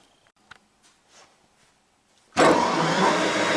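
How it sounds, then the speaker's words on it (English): A metal lathe in a workshop, turning a part for a thumb attachment on a Yanmar VIO35-2 mini excavator, switches on abruptly after a few faint clicks and then runs with a steady, loud whirring hum. "We'll do that in our lathe."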